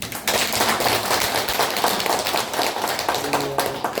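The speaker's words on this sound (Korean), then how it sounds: "그럼 다음은 큰 박수 한번" An audience at a Buddhist college sutra lecture in a temple claps loudly and continuously, a close, crackling burst of many hands that stays strong from start to finish.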